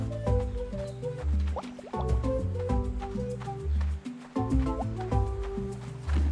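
Watering crops in the farming video game Roots of Pacha: repeated splashy, dripping liquid pours and gurgles from the watering action, layered over a steady, fairly loud game soundtrack with no talking.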